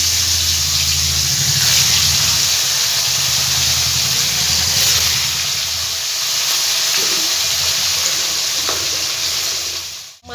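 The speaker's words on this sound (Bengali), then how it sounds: "তেলটা আমার গরম হয়ে গেছে, মাছগুলো সব একে একে ভেজে নেবো।" Pieces of rohu fish frying in hot oil in a kadai give off a loud, continuous sizzle and hiss that holds steady for about ten seconds before cutting off abruptly.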